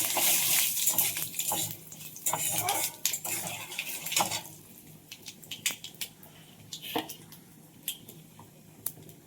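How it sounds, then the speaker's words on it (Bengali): Whole garam masala, two bay leaves, two dry red chillies, nigella, five-spice and cumin seeds stirred in hot oil for homemade veg khichuri: scraping clinks of a metal spoon against the pan with a soft sizzle, loud at first, then sparser taps. "ফোড়নে দেবো গোটা গরম মশলা, দেবো 2টো তেজপাতা, 2টো শুকনো লঙ্কা, দেবো একটু কালো জিরে, দেবো একটু 5 ফোড়ন, দেবো একটু গোটা জিরে। ভালো করে নেড়ে নেবো।"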